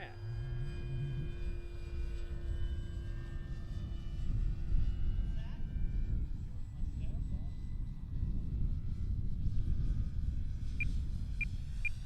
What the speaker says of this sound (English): see if we can slow it down enough to try a grass touch and go here